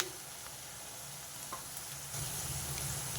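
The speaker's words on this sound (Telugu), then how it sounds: "ఇవి ఇంకొంచెం వేగాలి" Onions for a chicken gongura curry fry in a pan, giving a steady soft sizzle with a few faint stirring scrapes. The frying grows a little louder near the end, and no one speaks.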